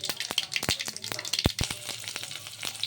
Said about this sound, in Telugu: ఆవాలు జీలకర్ర అయితే వేసాను. అవి కొంచెం చిటపటలాడుతూ ఉన్నాయి.